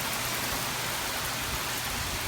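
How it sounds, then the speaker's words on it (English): Heavy rain from Hurricane Matthew pours down in Jacksonville, Florida, a dense, even roar of water hitting surfaces that fills the whole clip at a steady level, with no voices. "the rain is really coming down fairly hard"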